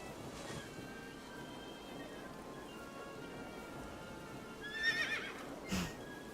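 A horse neighs briefly in the AI: The Somnium Files video game, a short whinny late in the sequence over a steady bed of rain, with a faint clip-clop nearby.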